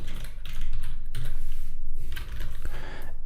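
Keys tapped on a computer keyboard while a short word is entered into a category screen, a close, steady run of soft clicks with brief pauses and no talking.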